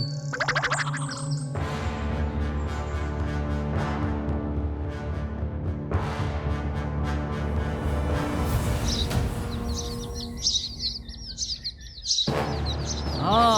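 Bright bird chirps and calls in a children's cartoon story, mixed with background music and sound effects, with a cluster of quick, high tweets near the end.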